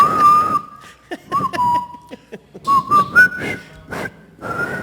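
A person whistles a wavering tune close by, with breathy breaks and chuckling or short voiced sounds between the whistled notes.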